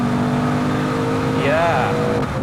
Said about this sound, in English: if I slow down again, and I put my foot down, there's an immediate pickup of speed